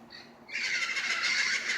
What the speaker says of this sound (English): Parrots are here again. They come every night at sunset.